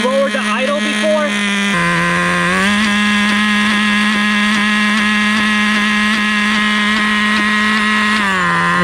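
A Traxxas T-Maxx 2.5 nitro RC truck engine buzzes loud and close with a high, whiny tone that surges and dips unevenly as it stutters, briefly spiking in pitch; some faint talking near the start.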